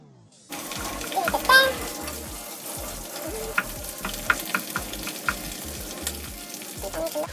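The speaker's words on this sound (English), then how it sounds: "I'm going to fry it just a little bit." Garlic tiger prawns fry in a hot pan with a steady, close sizzle, broken by scattered clicks and scrapes of stirring throughout.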